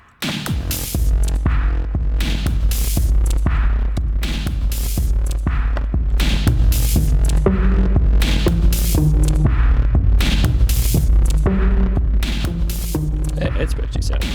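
Step sequencer music with drums, built with music machines in the game Stationeers: a loud, steady electronic loop with a deep constant bass hum, regular sharp percussive hits and pitched tones repeating throughout.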